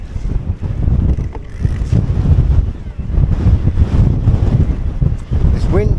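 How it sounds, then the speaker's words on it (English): Fierce wind buffets the microphone outdoors at Ogden Waters, a loud, constant low roar with gusty surges and flutter through the whole stretch. "Wind is getting fierce up here."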